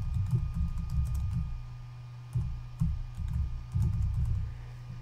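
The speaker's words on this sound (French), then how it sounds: "j'écris un texte qui accompagne la photo tout simplement" Quick, uneven keystrokes tap out text on a computer keyboard, clustered bursts of clicks with brief pauses between them, close and clear with no voices.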